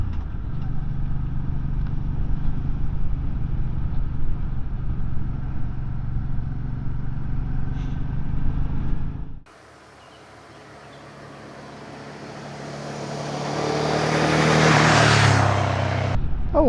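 MBP C1002V motorcycle engine while riding, a steady loud engine drone for the first half, then a cut to rushing wind and a rising engine note building toward the end.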